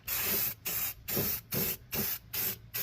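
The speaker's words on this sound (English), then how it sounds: "I am just going to spray paint a little bit to know where I need to clearance some holes" Gold spray paint hisses from an aerosol can onto an engine mount in seven short, even bursts separated by brief pauses, loud and close.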